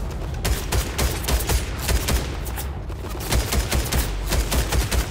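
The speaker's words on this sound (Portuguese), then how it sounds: "Que tiro foi esse?" Gunfire from the video game Fortnite, with dense rapid volleys of shots in close, loud bursts that keep going throughout without a pause.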